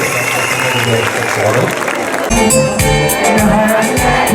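A student audience applauds and cheers at a university concert at KMÜ, with crowd noise and whoops; a voice speaks over the clapping partway through.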